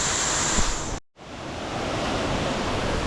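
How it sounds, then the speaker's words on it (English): Waterfall at Cascada La Isleta near Medellín, a steady broadband rush of falling water pouring into a small pool, loud and continuous apart from a brief dropout about one second in. "With a waterfall and a charquito."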